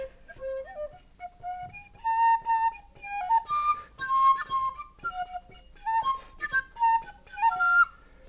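An old tin whistle, cracked and in need of repair, plays a lively melodic tune in close, clear phrases with a breathy, slightly rough tone, ornamented notes running continuously throughout.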